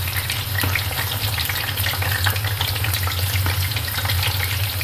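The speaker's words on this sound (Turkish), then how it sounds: "Kızgın yağda arkalı önlü, yanlı her tarafını güzelce kızartacağım." Eggplant pieces frying in hot oil, a loud continuous sizzle and crackle with dense spitting pops, close up and steady with no talking.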